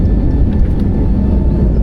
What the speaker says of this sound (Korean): 그리고 속도가 붙고 바퀴가 지면을 떠나는 순간